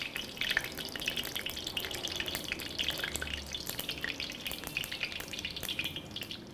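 Ghee and sunflower oil heating with milk in a pot, giving a steady soft sizzle and light bubbling crackle throughout, fairly quiet and continuous with no voices.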